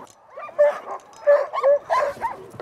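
Excited sled dogs in a kennel yipping and whimpering in short, high, overlapping bursts, several calls in quick succession at close range.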